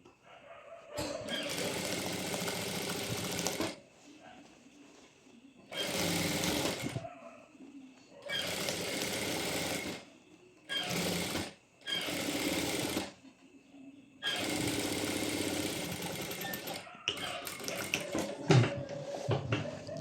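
A sewing machine runs top stitching along a lining in several bursts of steady, rapid whirring, each lasting one to three seconds, with short quiet pauses between them and no one talking.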